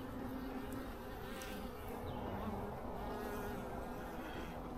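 Honeybees in a failing, queenless hive hum steadily and close by, a dense continuous buzz that holds level with no pauses and no talking.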